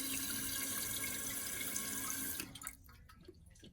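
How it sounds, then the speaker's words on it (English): Water rushes steadily into a Kohler toilet tank at close range, then the flow cuts back sharply into faint trickles and drips near the end. "All right, it's filling."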